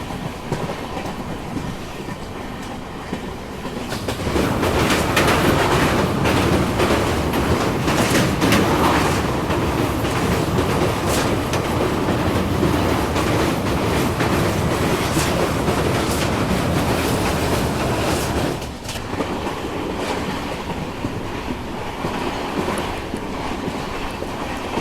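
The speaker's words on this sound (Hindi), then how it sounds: "फिलहाल अभी हमारी ट्रेन असम में चल रही है।" A Rajdhani Express runs steadily through Assam, its loud, continuous rumble and rail clatter rising after a quieter start and carrying on with wind noise and no talk.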